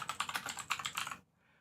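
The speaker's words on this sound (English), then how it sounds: "here we go, mechanical keyboard" Rapid clattering keystrokes on a mechanical keyboard, a steady run of close, crisp clicks in quick bursts for just over a second, then stopping into near silence.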